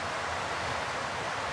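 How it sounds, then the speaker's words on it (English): Heavy rain falls at night on a wooden shack during a camping trip, a dense, steady hiss of drops heard close and alone, without any voices. "the heavy rain has come"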